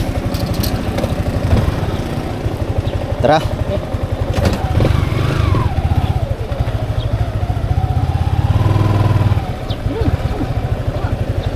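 A motorcycle engine runs loud and close for the whole stretch, a steady pulsing drone with brief revving surges, while people talk over it.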